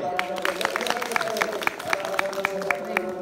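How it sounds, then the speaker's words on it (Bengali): Audience clapping for guest speakers at a life-skills session, a steady patter of many hands with sharp individual claps, continuing for a few seconds in a room. "আমরা ওনাদের উদ্দেশ্যে একটা হাততালি দেই"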